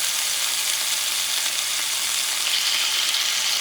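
Scallops sear in a hot pan with a steady, dense sizzle that stays loud and constant throughout, no voices present.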